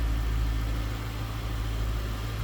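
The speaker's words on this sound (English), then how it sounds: "There it is, that V8 power" A 2004 Ford Thunderbird Pacific Coast Edition's overhead-cam V8 idles steadily, a close, even low rumble with constant vibration and no voices.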